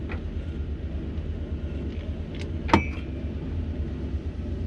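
A Toyota Land Cruiser fitted with a 1UZ V8 engine rolls along with a low, steady engine rumble heard from inside, punctuated by a single sharp metallic clunk midway.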